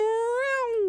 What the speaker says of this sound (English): I do, however, hear a startled meow issuing forth a few paces away